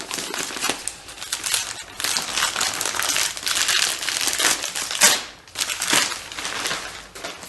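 Gift wrapping paper crackles and crumples as hands tear open a parcel containing a book, a continuous close, loud crinkling and rustling with brief pauses, no speech.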